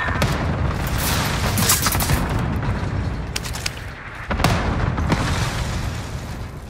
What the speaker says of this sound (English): Calling for airstrike on my target.